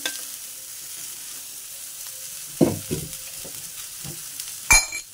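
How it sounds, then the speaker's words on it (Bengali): Drumsticks and wet lentil dumplings fry in hot oil with turmeric: a steady soft sizzle runs throughout, broken by a few louder scraping stirs near the middle and end, with no talking. "এবার এগুলোকে একটু ফ্রাই করব।"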